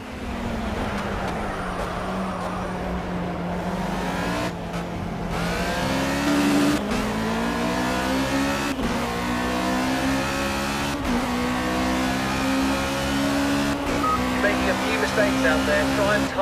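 Race car engine at full throttle in the video game Project Cars, a sustained loud roar climbing in pitch through repeated gear shifts, with clear breaks at each upshift, and people talking over it.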